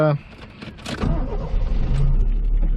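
A Toyota EP82 Starlet GT Turbo engine turns over and catches, settling into a low steady idle rumble after a brief whir, close by.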